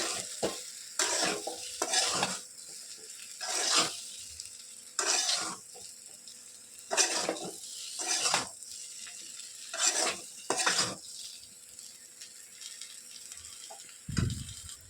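A spoon stirs brinjal fry seasoned with chili powder in a hot pan, about nine scraping strokes in irregular bursts with a soft sizzle between them, close and alone.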